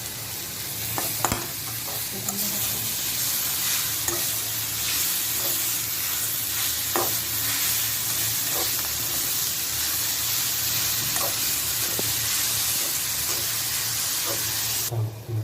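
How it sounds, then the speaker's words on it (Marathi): Chopped spinach stirred into a pan of browned onion for a Maharashtrian palak varan, sizzling and hissing steadily throughout, with occasional scrapes and taps of the spoon against the pan, close and fairly loud. "छान पालक मिक्स करून घेऊया"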